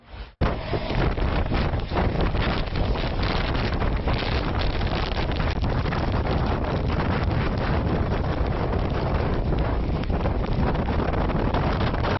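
Strong wind gusts from Hurricane Nicholas striking the Texas coast batter the microphone in a loud, constant roar that barely lets up for about twelve seconds.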